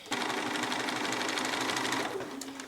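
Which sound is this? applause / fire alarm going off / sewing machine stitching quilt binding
sewing machine stitching quilt binding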